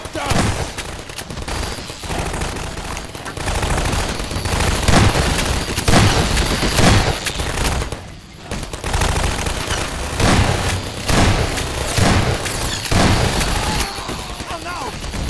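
Sustained automatic turret gunfire during a Half-Life 2 battle, loud and continuous with brief lulls, mixed with game sounds and some shouting voices.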